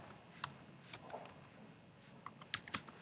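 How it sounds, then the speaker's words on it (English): A name is typed on a computer keyboard in short bursts of soft key clicks, faint and close, with brief pauses between clusters and no talking. "So you can see that it's making me type my name."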